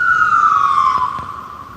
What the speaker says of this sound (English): Prayers for whoever that ambulance is going to.